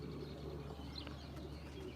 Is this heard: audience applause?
no